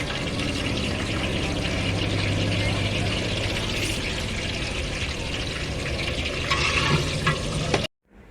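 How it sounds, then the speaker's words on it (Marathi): Continuous crackling sizzle of cumin seeds tempering in a large batch of hot oil, close and steady, ending abruptly in silence. "जीरे टाकलेले आहे फोडणीसाठी"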